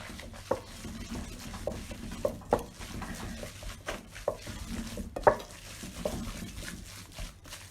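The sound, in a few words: mixing ingredients by hand in a bowl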